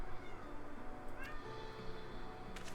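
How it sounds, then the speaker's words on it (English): A cat meows in the video game Final Fantasy XIV: Dawntrail, giving a couple of short, fairly faint mews over low game background sound. "Meowing."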